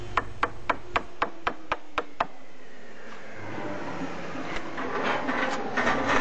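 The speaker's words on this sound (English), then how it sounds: "chiselling on the flat, again coming in from both sides to make sure that you're doing it correctly" Wood chisel paring a flat joint from both sides, with a run of sharp, evenly spaced taps at the start giving way to a softer, continuous scraping cut.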